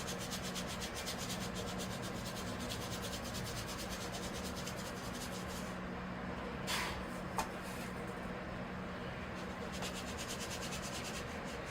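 Desert tan sand is spread across the soil surface of a serissa bonsai, making a steady, close, soft rubbing and scraping that runs throughout with a few light knocks.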